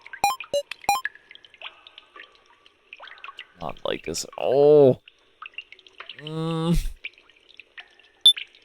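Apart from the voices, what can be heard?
water dripping and pouring in a video game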